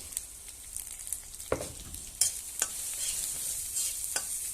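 Dried red chili and chopped onion fry with a pinch of turmeric powder in a pan, a quiet, steady sizzle broken by a few sharp spoon scrapes and stirring knocks up close, with no voices.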